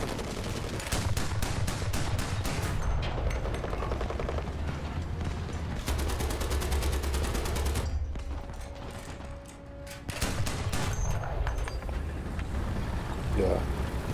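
Rapid bursts from a tank's turret-mounted 20mm autocannon and surrounding gunfire in War Thunder, a World War II battle during Operation Nordwind, with dense repeated shots, a brief lull, then more firing.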